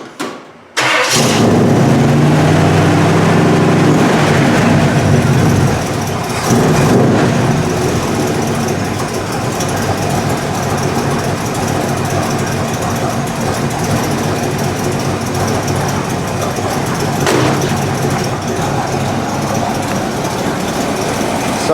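A 1958 Chevy Nomad wagon with a 350 engine cranks and catches almost at once, then settles into a loud, steady, rumbling idle that holds close and continuous for the rest of the clip.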